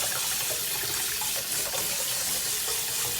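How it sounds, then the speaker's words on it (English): Tap water runs into a pot while brown rice is rinsed by hand, giving a continuous splashing gush that stays loud and close throughout. "Just gonna rinse our rice until it runs clear."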